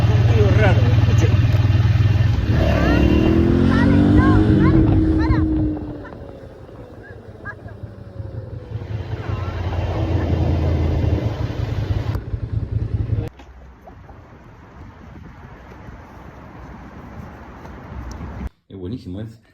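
A motorcycle with a strange noise under acceleration revs and pulls away loudly amid heavy wind buffeting, its engine tone climbing then easing off, with the noise dropping sharply toward the end.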